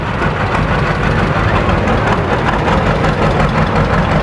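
A John Deere 50 tractor's engine runs steadily at a cotton gin festival, a loud, close, even low chugging idle that holds without a break.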